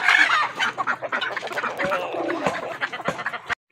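Hens and roosters on a desi poultry farm cluck busily and close up in a dense, overlapping stream of short calls that runs right to the end.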